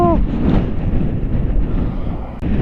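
A strong gale at a motorbike campsite buffets the microphone with a loud, constant low roar and rumble that never lets up.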